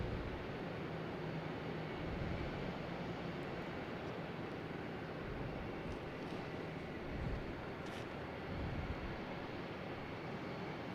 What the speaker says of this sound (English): we got JetBlue taking off here